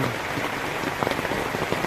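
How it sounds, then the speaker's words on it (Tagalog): Heavy rain pours down in Santa Cruz, Laguna, a dense steady patter drumming on surfaces close by, with a few louder drips standing out; no voices are heard. "Ang lakas ang ulan."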